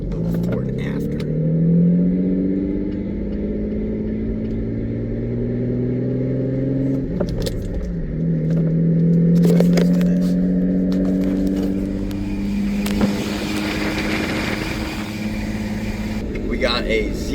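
Nissan 350Z fitted with a Z1 Touring big brake kit driving on the road; a close, loud engine drone that climbs and falls with the revs, running steadily throughout.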